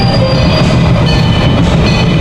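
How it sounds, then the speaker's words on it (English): A zoo train ride running during a lantern festival, a close, loud continuous rumble with clattering and faint high squeals, no talking. "You hear a train ride going."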